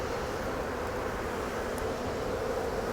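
Steady, droning buzz of many honey bees from a swarmed colony around an open hive during inspection, continuous and even throughout with no voices.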